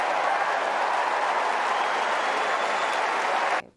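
Sustained applause from a large Wimbledon crowd greeting the Princess of Wales, a dense, even roar of clapping that holds steady at full strength for over three seconds before cutting off abruptly.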